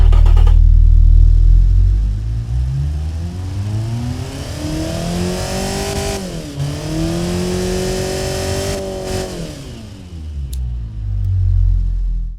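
A simulated car engine fitted with a cheap turbocharger in BeamNG.drive revs up through the gears, its whine climbing, dipping briefly at a shift, then climbing again before easing off, loud and close.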